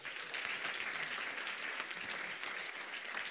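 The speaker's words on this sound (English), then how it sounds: "Applause to Professor Deepak Kaura." Audience applause at a digital health conference closing ceremony, a steady dense wash of clapping that holds evenly for a few seconds with no voices over it.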